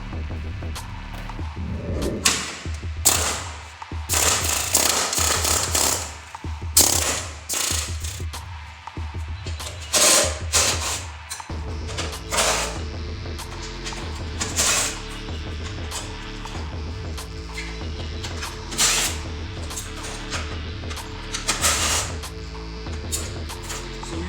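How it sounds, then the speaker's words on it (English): A loud pneumatic impact hammer rattles in repeated bursts, separating a car's radiator support from the frame, then settles into a steady mechanical hammering and hum, close by. "we need to use the impact hammer to separate the radiator support from the frame of the car"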